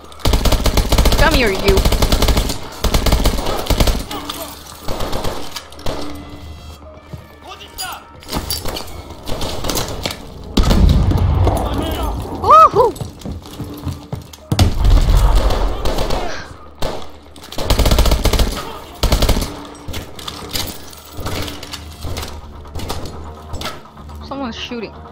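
Bursts of automatic gunfire and scattered gunshots rattle through a Call of Duty Advanced Warfare firefight, loud and intermittent over several seconds, with someone talking over the shooting.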